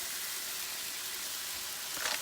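Spices are sprinkled into a paella sizzling in a pan on a Cadac Safari Chef 2 gas cooker, giving a steady, close hiss of frying with a brief rustle near the end.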